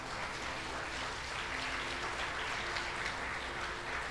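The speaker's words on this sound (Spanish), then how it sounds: "Dele un aplauso al Señor" Congregation applause in a Spanish-language church service, a dense, even patter of clapping that continues steadily for several seconds and fills the room.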